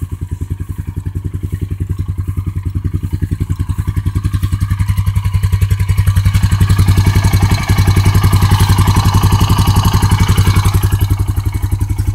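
A big motorcycle engine idles loud and close with a fast, even pulsing thump, rising slightly in the middle before settling back.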